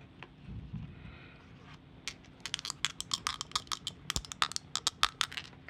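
Metal RPG dice clicking together as they are handled, a quick irregular run of sharp, bright clicks and taps that starts after a quiet moment and stays close and crisp.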